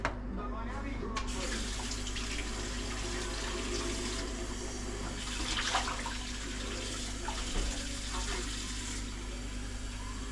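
Water runs from a kitchen tap in a steady, even rush that carries on for about ten seconds without pause, fairly loud and close.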